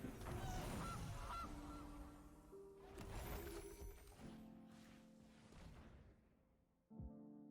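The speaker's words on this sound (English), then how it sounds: "There's a Goose." A goose honks loudly in the MTG Arena card game, repeated nasal calls over layered game sound effects and music, with a sharper burst near the end.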